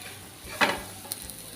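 Ravas fish roe keema fries in a pan on low heat as fresh coriander is mixed in, giving a soft, steady sizzle with one short stirring scrape.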